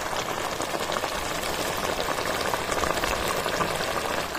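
Cabbage curry cooking in a pan just after ground poppy seed paste goes in, a steady loud bubbling sizzle running unbroken throughout.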